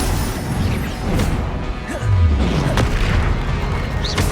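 Bombarda and Confringo spell explosions in the video game Hogwarts Legacy, heavy booms and crashes over a constant roar of combat, loud throughout with a deep impact midway.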